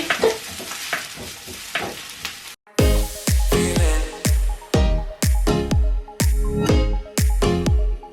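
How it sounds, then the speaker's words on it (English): Onions stirred in a frying pan, giving a close, loud sizzle broken by repeated rhythmic scraping strokes of a spoon, a brief quieter stretch, then regular stirring pulses about every half second, no voices. "So my mum's going to stir the onions for me whilst I'm cutting these up."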